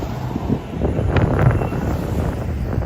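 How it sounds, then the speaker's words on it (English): Steady outdoor wind in New York City buffeting the microphone, a low rumbling roar with slight gusts swelling and easing throughout, no voices present. "So today it is a little windy, a little breezy, gusty out here"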